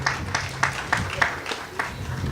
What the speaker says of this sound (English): I want you to give them a round of applause as well.